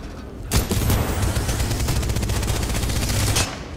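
Sustained burst of rapid automatic gunfire from a gun in Titanfall 2, loud and close, rattling steadily for about three seconds before cutting off.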